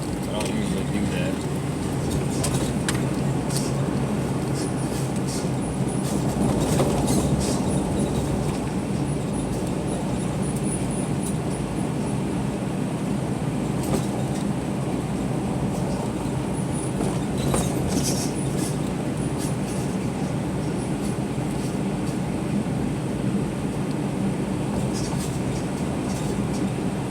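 A train rumbles past at close range in Tacoma, Washington, at night, with steady clattering and rattling of the cars, a continuous heavy roar that lasts throughout, with faint voices underneath.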